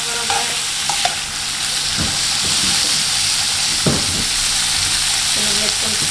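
A keto meal fries in a pan with a loud, continuous sizzle and hiss, joined by a few scraping stirs close by.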